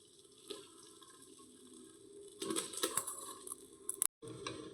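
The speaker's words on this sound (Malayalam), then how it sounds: "ഇപ്പം ഇതിൻ്റെ മുകളിൽ ഒരു നല്ല വൃത്തിയുള്ള തുണി വെച്ചതിന് ശേഷം നമുക്ക് ഇത് ഒഴിച്ചു കൊടുക്കാം" Curdled milk, soured with vinegar, is poured through a clean cloth to strain out homemade paneer, giving a soft, steady splash and trickle of liquid that swells midway, with a brief silent gap near the end.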